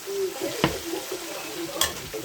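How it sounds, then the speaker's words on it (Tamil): Oil sizzles steadily in a metal pan as a spoon stirs and scrapes through potatoes frying with chilli powder, with a couple of sharper clinks against the metal. "நல்லா கிண்டி விட்டுக்கலாம்"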